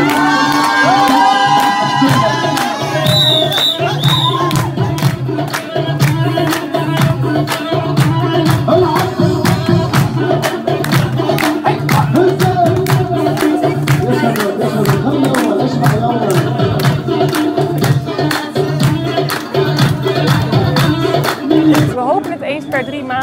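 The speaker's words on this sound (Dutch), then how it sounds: "Applaus voor de winnaars!" A crowd at a festive bingo evening with refugees cheers and claps for the prize winners, a loud, dense, continuous mix of whoops, shouts and applause with voices mixed in throughout.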